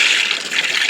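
Water poured over beans in a pot in an outdoor kitchen, a loud, close, steady splashing gush lasting about a second.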